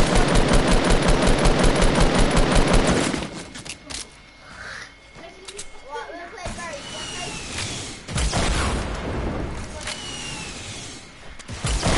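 Video game gunfire: a fast, loud machine-gun burst of evenly repeated shots up front, then scattered distant shooting and game effects while players talk over it.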